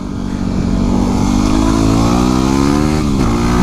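A Yamaha WR250 motorcycle is ridden with its engine loud and close, revving up with rising pitch and then briefly easing off before pulling again.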